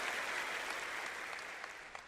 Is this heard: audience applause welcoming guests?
yes